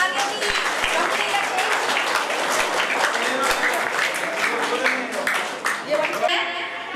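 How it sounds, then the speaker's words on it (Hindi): A crowd at a retirement ceremony keeps up loud, sustained applause, dense clapping filling the room throughout, with a few sharper individual claps standing out. "तालियां बजाते रहे"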